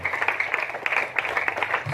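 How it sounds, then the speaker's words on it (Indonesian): Applause from an audience at an inauguration ceremony for a company, a dense steady wash of many hands clapping with small swells, fairly close and continuous, with faint voices mixed underneath. "Kita beri tepuk tangan dulu, ini luar biasa."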